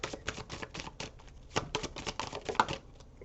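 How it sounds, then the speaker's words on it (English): Tarot cards are shuffled and tossed down in a quick, uneven run of soft flicking and slapping taps, close by and fairly quiet. "Ooh, I'm just throwing cards all over today."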